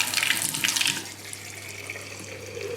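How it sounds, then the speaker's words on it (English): Hot water rushes from a tap into the small clean-water tank of a Vax Floormate Freedom hard floor washer, a steady hiss that softens slightly as the tank fills. "with hot water from the tap to the fill line."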